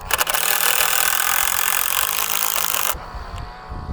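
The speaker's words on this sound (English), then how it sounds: "drill all the way in" A power drill driving a screw into wood while building a tomato trellis outdoors gives a loud, steady, close grinding whir for about three seconds, then stops abruptly, leaving faint outdoor background.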